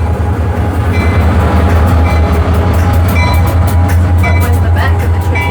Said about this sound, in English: This is our locomotive right here, and they are just moving the locomotive.